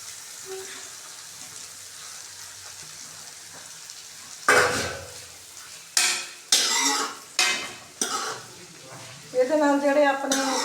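Sweet corn fries in melted butter in a pan, quiet sizzling followed by several loud bursts of a spoon stirring and scraping, with a person talking over it.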